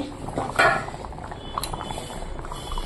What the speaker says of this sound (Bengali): দেখো কিরকম টক বগিয়ে ফুটছে